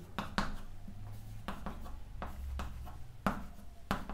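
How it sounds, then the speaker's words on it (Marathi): A pen writing on paper during a chemistry lesson on biomolecules: a series of short, scratchy strokes in an uneven rhythm, close and fairly quiet, with no talking over them. "ऑक्झाईम लिहितो मी"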